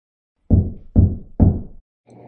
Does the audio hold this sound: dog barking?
no